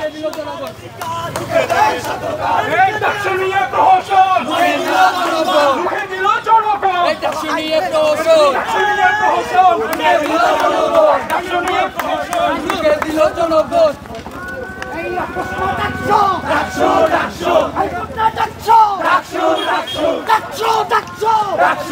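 Students at Dhaka University march in a celebration procession, chanting slogans in loud, rhythmic unison. Many voices carry the call and response continuously over a dense crowd din.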